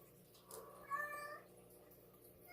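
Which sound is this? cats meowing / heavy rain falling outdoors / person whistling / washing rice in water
cats meowing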